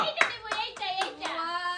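Hands clap in a quick, even rhythm of a few claps, mixed in with an excited voice during a playful necklace challenge game.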